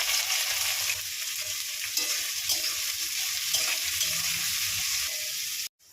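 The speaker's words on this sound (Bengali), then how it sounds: "এবার আমি পেঁয়াজটা ভেজে নেব" Chopped onions fry in hot oil in a pan, giving a steady bright sizzle with occasional scraping stirs, close and continuous until it cuts off abruptly at the end.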